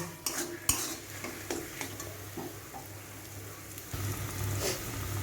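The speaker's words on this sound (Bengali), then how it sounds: "এই নুন আর চিনিটাকে খুব ভালো করে এটার মধ্যে মিশিয়ে নেব।" A spoon stirring salt and sugar into a jackfruit seed paste in a pan, with scraping and clinking strokes against the metal at an irregular pace and a faint sizzle beneath, close and with no talking.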